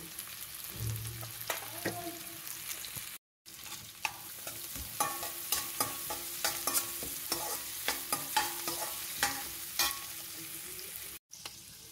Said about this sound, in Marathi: आता याच्यामध्ये आपण ह्या चिरलेल्या सगळ्या भाज्या टाकून घ्यायच्या। गाजर, बीट आणि बीन्स।